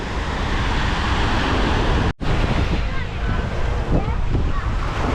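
Surf washing onto a white-sand beach in Cancun behind breakwaters, heard as a steady close roar of waves mixed with heavy wind buffeting, with a brief dropout partway through.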